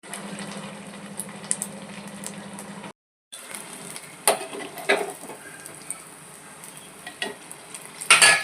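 Mysore bondas deep-frying in hot oil give a steady sizzle with a low hum, broken by a brief silence, then renewed crackling and sharp metal scrapes and taps of a slotted spoon, louder clinks near the end.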